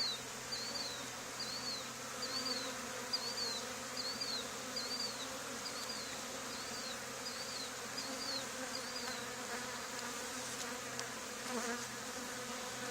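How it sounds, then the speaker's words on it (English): Honey bees swarming inside a cardboard box scented with lemongrass oil hum steadily and close up, with faint high chirps and insect noise running through the whole stretch. "Drop in some bees and bee magic begins."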